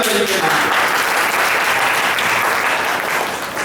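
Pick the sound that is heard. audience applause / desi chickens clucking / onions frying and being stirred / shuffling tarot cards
audience applause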